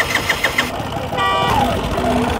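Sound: motorcycle engine starting, running on butane gas

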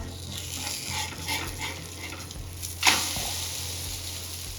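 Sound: egg omelette frying in a pan

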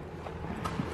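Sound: horse hooves clip-clopping

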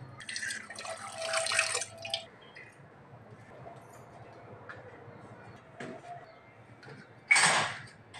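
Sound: water poured into a cooking pot for tea

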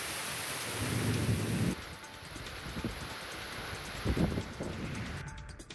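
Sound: rain falling in Mumbai

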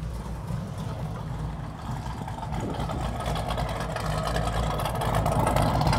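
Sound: loud 1974 Chevrolet Corvette engine running

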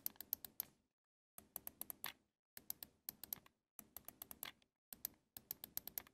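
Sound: game controller trigger buttons clicking

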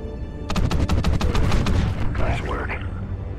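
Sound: underwater gunfire in video game Call of Duty Ghosts

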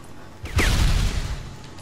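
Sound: grenade explosion and gunfire in video game Sniper Elite 3

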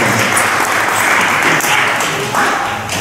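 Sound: audience applause for the dance participants

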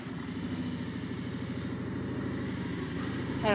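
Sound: Street Glide motorcycle riding with two people

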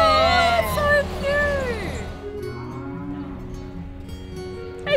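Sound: cows mooing while crossing a bridge

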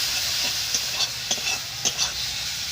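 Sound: stir-frying spice paste with cumin powder and water

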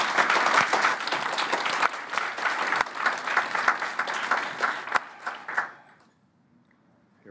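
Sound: audience applause for presenters

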